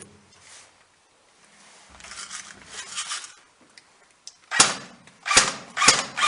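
An airsoft submachine gun fires outdoors near a building, with faint clatter and handling noise first, then several loud, sharp, snapping shots close by in quick succession.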